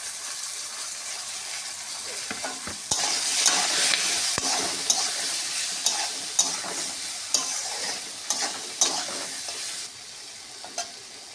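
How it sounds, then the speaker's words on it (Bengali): Tomatoes and green peas hiss and sizzle in a hot pan, the frying growing louder after a few seconds, with regular stirring taps and scrapes nearby. "এবারে টমেটো আর মটরশুঁটিটা দিয়ে দিলাম"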